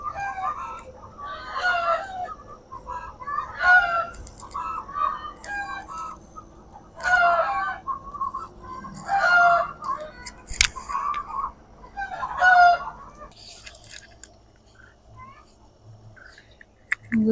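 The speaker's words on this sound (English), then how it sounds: "Chickens are having their morning meeting." Several chickens clucking and a rooster crowing repeatedly, outdoors and moderately close, with chatter continuing throughout.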